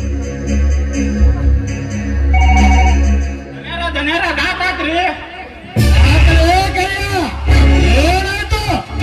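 A telephone bell rings loudly in repeated bursts during a staged drama performance, with people talking and chattering over and between the rings.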